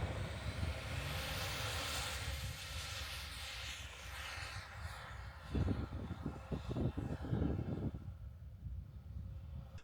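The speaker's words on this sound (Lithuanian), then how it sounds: "Apsižvalgome su dronu" A camera drone flies near a snowy mountain track, a steady whirring engine-like drone with some lower rumbling and a brief rattling burst midway before it thins out and fades.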